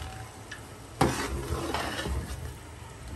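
Rice grains being stirred and mixed into hot ghee in a pot for sweet zarda rice, a soft scraping and rustling with a sharp knock of the spoon against the pan, close and fairly quiet, without talk.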